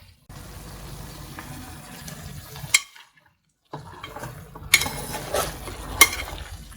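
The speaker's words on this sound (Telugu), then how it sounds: "ఇప్పుడు ఈ స్టేజ్లో చక్కగా సన్నగా తరుక్కున్న ఉల్లిపాయ ముక్కల్ని వేసుకోండి." Finely chopped onions go into a pan of country chicken curry and are stirred, giving a soft, steady scraping and light sizzle with a few sharper clinks of the spoon against the pan, broken by a brief pause.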